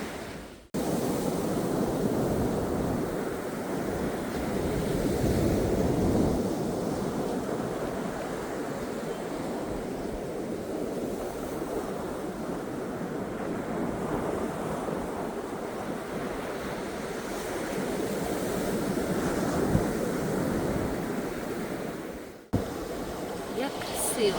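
Sea surf washing ashore at dawn with steady wind buffeting the microphone, a continuous broad roar that holds through the whole stretch and drops out briefly near the end.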